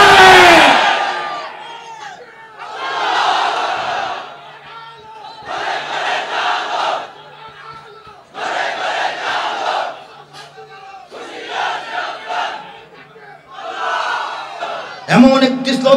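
Large crowd chanting the slogan Allahu Akbar in loud repeated bursts, each roared phrase followed by a short pause, with the mass of voices rising and falling in rhythm.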